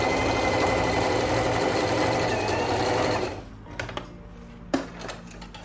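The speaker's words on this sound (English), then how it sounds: "When you stitch your elastic together, do it in a zigzag stitch." Sewing machine running a zigzag stitch to join elastic, a fast steady mechanical whir for about three seconds, then stopping and leaving a few light clicks and one sharp tap.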